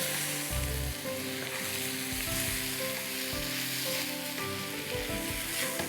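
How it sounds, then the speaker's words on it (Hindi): Toor dal is added to a pot of khichri with potatoes and sizzles steadily and loudly, a constant hiss with a few soft stirring knocks. "और हम दाल डालेंगे इसमें और इसको पकने के लिए छोड़ देंगे"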